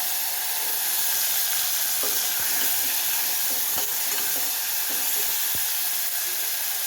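Garlic, red chili and chopped tomato fry in oil, heard as a dense, even hiss of frying. A few faint knocks from stirring come through, steady and close with no voices.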